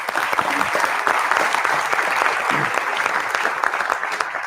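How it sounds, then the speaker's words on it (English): An audience at a mathematics conference lecture breaks into sustained applause, a dense, even patter of many hands clapping that stays loud and steady throughout, with a voice faintly beneath it. "On les applaudit."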